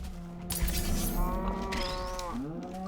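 A blocky Minecraft cow moos in a long, wavering low call with a second drawn-out moo near the end, fairly close and clear over steady game ambience, with no talk.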